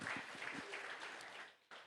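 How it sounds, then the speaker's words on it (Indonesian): A church congregation claps together during a Sunday worship service, a faint, distant wash of applause that fades out toward the end. "Tepuk tangan buat Tuhan Yesus Kristus"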